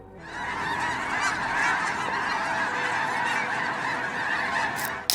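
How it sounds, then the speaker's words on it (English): A huge flock of migrating geese calling together, a dense, continuous wall of honking that stays loud and steady throughout with no voices. "with this many birds in the air, there is also an incredible uproar"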